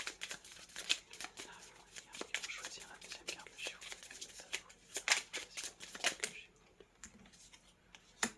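Tarot cards shuffled and drawn close up, with soft rapid riffling, papery flicks and slaps of cards laid down, as a hushed voice speaks French over them.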